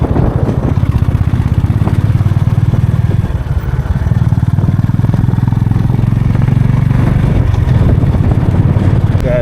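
Motorcycle engine droning steadily and close throughout a ride through a national park in South India, a continuous low rumble with faint rattling and wind.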